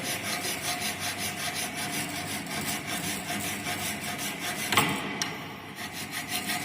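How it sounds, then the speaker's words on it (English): Hand file drag-filing metal in steady rhythmic rasping strokes, close and moderately loud, with a brief sharp scrape near the end before the strokes resume more softly. "This is known as drag filing."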